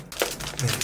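Protective tape being peeled off the back of a Huawei MateBook D16 2024 laptop: a short, close crinkling rip lasting under a second, with no voices.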